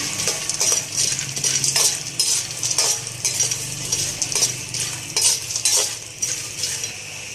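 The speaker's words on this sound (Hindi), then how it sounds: "इनको भी मैं घी के अंदर हल्का सा फ्राई करूंगी।" Cashews and pistachios frying lightly in ghee for gond laddu, with a steady soft sizzle and repeated clinks and scrapes of a spoon stirring them in the pan, close and continuous without talk.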